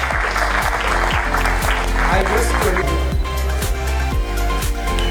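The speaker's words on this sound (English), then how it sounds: "So a round of applause for the panelists." A round of applause for the panelists at the close of a panel discussion, moderate clapping layered over background music with a repeating beat.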